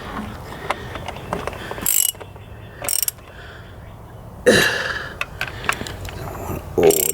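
A hand tool tightens bolts on the transmission cable linkage of a 2015 Kia Optima, with intermittent short bursts of metallic ratcheting and clicking heard up close, plus faint throat noises between them.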